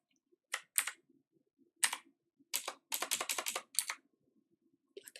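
Typing on a computer keyboard, close and clear: short bursts of rapid key clicks separated by brief pauses, with no talking.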